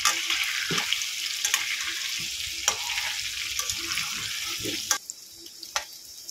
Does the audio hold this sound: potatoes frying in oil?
yes